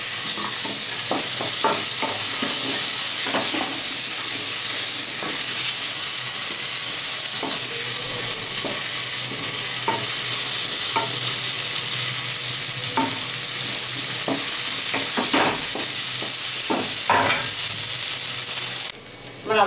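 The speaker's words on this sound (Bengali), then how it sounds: "একটু লাল লাল করে ভেজে নেবো" Bhangan fish sizzles in hot oil with turmeric, a loud, continuous, hissing fry punctuated by small clicks and taps of stirring throughout.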